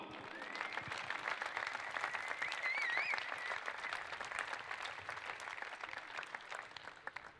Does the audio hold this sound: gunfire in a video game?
no